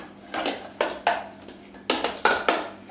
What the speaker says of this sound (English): we'll give it a mix up so that they can all get right down to the bottom